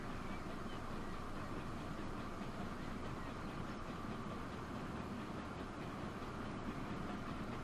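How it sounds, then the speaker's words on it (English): Freight trains running in the Transport Fever 2 video game, a faint continuous rumble of rolling wagons and engine hum with no breaks. "So a few freight trains"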